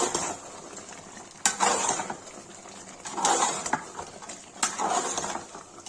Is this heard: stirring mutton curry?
yes